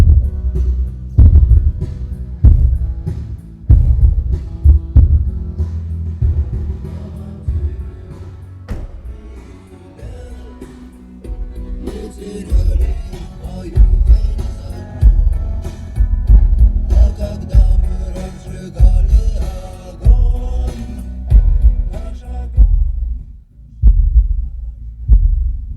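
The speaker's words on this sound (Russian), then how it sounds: "Ну, слышим бас быстрый, потому что, видимо, динамик легкий" Pioneer active car subwoofer pumping fast, punchy bass with rapid thumping low pulses, loud and close, later joined by faint upper music, no speech.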